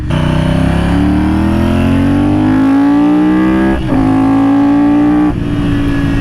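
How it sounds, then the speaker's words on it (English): A custom Ducati motorcycle engine revs up through its gears, its loud, close drone climbing steadily in pitch, dipping briefly at two shifts and then pulling again. "just the right amount of power where you can really go through the rev range and go through all the gears"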